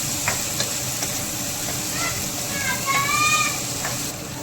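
Okra sautéing in a pan with lemon juice, a steady close hiss of frying under a voice speaking throughout.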